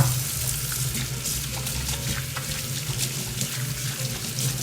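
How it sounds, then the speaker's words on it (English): Hands being washed under a kitchen tap: water runs steadily and loudly into the sink, with small splashes and shifts in the flow as the hands move through the stream. "I'm gonna wash my hands."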